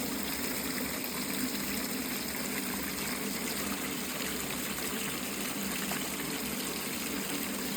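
Steady broadband rush of water running through a homemade highbank gold-prospecting hopper built from a patio heat shield on the Greenhorn, a continuous close, even flow with no talking.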